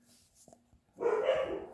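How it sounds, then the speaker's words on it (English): Dogs bark a short way off, a burst of rough barking rising after a few faint knocks and quiet background, moderately loud and unaccompanied by talk. "Look, man, them damn dogs, man."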